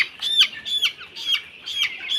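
A chicken on a raised poultry platform gives a rhythmic series of four or five sharp squawking calls, evenly spaced and close, with nothing else heard.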